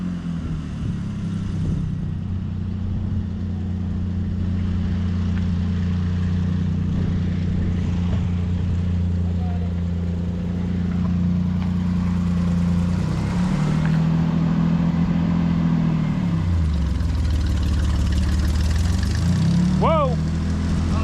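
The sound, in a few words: car driving forward and pulling over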